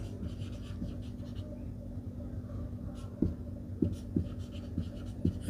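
Chalk or marker writing a number on a classroom board: a few sharp scratchy taps and strokes that grow more frequent toward the end, close and clear over low room hum.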